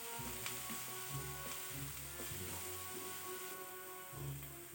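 Onions sautéing with salt in a pan for butter chicken give off a soft, steady sizzle with light stirring clicks and an occasional low thump, faint and close, with no talking.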